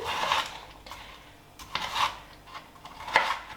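A knife chopping partly frozen broccoli into small bite-sized chunks: a handful of crisp cuts and knocks on a board, irregularly spaced and close, with no one speaking.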